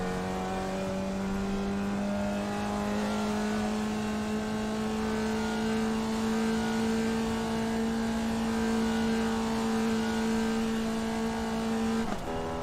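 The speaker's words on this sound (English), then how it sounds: "Listen to that engine." A racing car engine in a sim racing game holds a high, sustained drone with steady harmonic pitch that climbs slightly over time, loud and continuous, then dips briefly near the end, with no talking.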